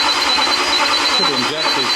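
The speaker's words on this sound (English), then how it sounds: "Come on, fire up. It's not going, is it?" Rebuilt Audi R8 engine cranking without firing, a steady close whir of the starter churning throughout with a voice speaking over it near the end.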